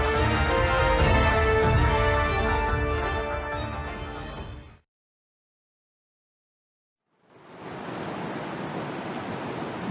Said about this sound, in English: The sound of the rain, begins to fade.